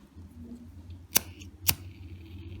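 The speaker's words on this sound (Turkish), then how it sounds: "İpimin fazlalığını şöyle kesiyorum." Scissors snip the excess thread from a beaded bracelet twice, giving two sharp, close clicks about half a second apart against a quiet background.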